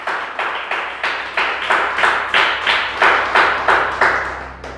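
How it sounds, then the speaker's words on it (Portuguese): Church congregation clapping in unison, a loud, steady rhythmic beat of about two claps per second sustained throughout, close and full, with no talk. "Uma salva de palmas para o Senhor"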